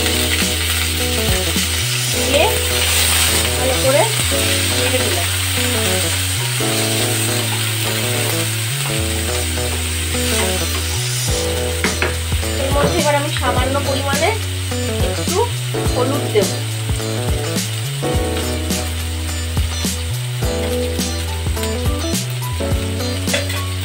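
Small diced potatoes frying in hot oil in a pan, a steady sizzle running under loud repetitive background music for the whole stretch.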